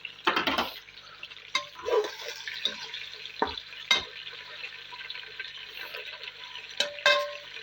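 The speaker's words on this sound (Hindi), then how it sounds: "अब इसी में ना हम चिकन ऐड कर देंगे ताकि चिकन हमारा फ्राई हो जाए प्याज के साथ।" Chicken pieces frying with onions in a pot, a soft steady sizzle broken by clattering stirs and spoon knocks against the metal, close and fairly quiet.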